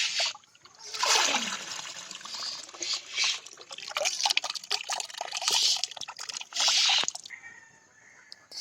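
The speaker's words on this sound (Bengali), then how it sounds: "তো শাকটা তুলে এনে আমি ভালো করে ধুয়ে নিচ্ছি" Water runs and splashes over freshly picked chechi saak greens being rinsed by hand, a steady close gush with bursts of splatter and trickling, and no talk.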